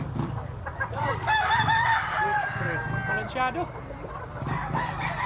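A bullstag gamecock, a medium-sized bloodline fighting rooster, crows nearby with a bright, wavering call over steady background chatter and farmyard noise, while someone speaks briefly.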